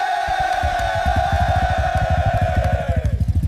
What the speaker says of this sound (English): Listen to that roar!